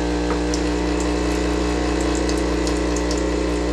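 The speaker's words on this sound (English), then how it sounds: "So it's running through that, splashing everywhere." A Breville espresso machine runs hot water during descaling, giving a loud steady pump drone with gushing, splashing water, constant and close throughout.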